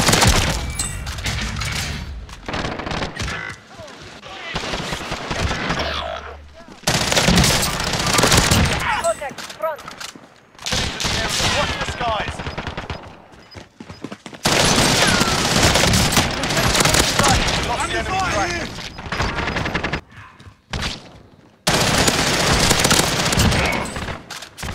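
Video game machine gun fire rattles in long, loud, close bursts, broken by short pauses and a few brief quiet gaps.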